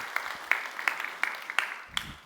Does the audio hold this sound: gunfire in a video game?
no